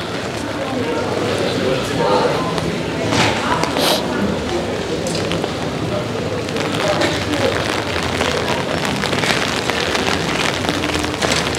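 Rain falls steadily on a lively Amsterdam street, a dense patter on pavement and surfaces throughout, with voices mixed into the wet background.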